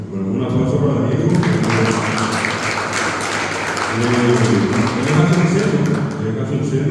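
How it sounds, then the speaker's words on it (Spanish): An audience at a poetry reading event applauds for several seconds with a bright, busy clatter of hands, and a voice is heard over the clapping. "un aplauso para Diego"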